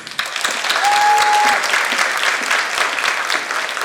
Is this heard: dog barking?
no